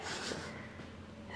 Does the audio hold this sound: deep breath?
yes